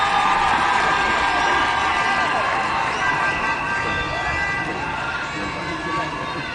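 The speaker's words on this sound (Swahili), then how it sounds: "Makofi tafadhali." A large crowd cheers and applauds at a Kenyan political event attended by President William Ruto, a dense, sustained roar that fades slightly toward the end.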